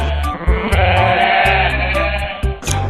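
A goat bleats in a loud, close, wavering cry that carries on with a few brief breaks, with no talking over it.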